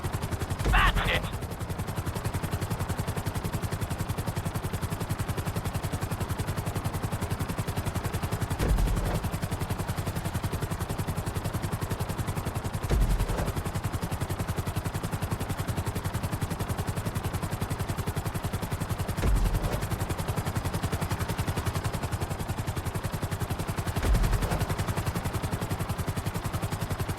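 A helicopter in the video game GTA 5 drones steadily and loudly throughout its flight, the rotor hum constant, with a few faint dull thuds at intervals.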